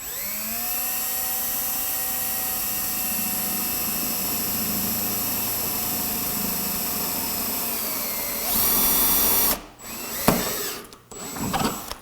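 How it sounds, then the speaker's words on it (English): A twist drill bores through a plexiglass sheet with a steady, loud whining motor drone for about eight seconds, then a harsher grinding surge as the bit breaks through, followed by short stop-start bursts. "what goes on when this twist drill comes through here"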